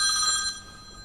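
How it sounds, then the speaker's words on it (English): A telephone rings in a kitchen during home baking, with steady high electronic tones that sound fairly close and then drop to a lower level about halfway through the short burst. "husband's ringing me already"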